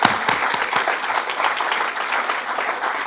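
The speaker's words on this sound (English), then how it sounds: "I would like to encourage you all to join me in clapping out of applause for the Honourable Julie Bishop." An audience gives sustained applause for the Honourable Julie Bishop, full and steady crowd clapping with a few sharper claps at the start, no voices over it.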